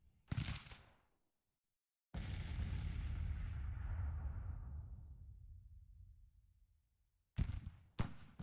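Artillery brigade firing on enemy guns in a Grand Tactician Civil War battle: two sharp cannon reports, then a long rumbling boom that fades over several seconds, followed by more close, sharp shots.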